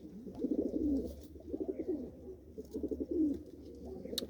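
A white-eyed female pigeon coos in a series of soft, low rolling phrases, three main bouts with short pauses, close and fairly quiet.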